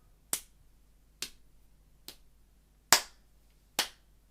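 Five sharp hand claps spaced evenly about a second apart mark a steady rhythmic pulse in a konnakol rhythm exercise, crisp and close against a quiet background.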